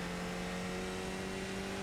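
Skip Barber race car at Spa in a racing video game, its engine holding a steady sustained drone with strong tonal harmonics, loud and continuous throughout with no talk.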